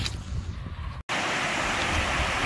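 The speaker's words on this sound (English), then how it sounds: "there's the River Coly" Steady broadband rush of the River Coly flowing beside a footpath in Colyton, Devon, on a rainy day, close and continuous, briefly cut by a short dropout before resuming louder and brighter.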